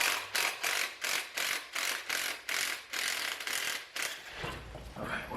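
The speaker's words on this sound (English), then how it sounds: "Let me get this last bolt out." A ratchet wrench working the last bolt out of an engine mount on a 1988 Mustang GT Foxbody drag car, rapid rhythmic clicking bursts close by, fading into a softer rattle at the end.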